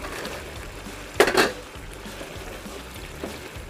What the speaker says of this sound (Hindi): अब हम इसमें अपनी जो फुल्की हमने बनाई थी वो डाल देंगे।